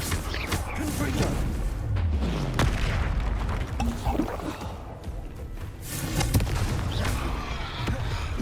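A Confringo fire spell blast in the Hogwarts Legacy video game, heard as booming impacts and crackling bursts over a dense layer of game music and effects, with a voice speaking over parts of it.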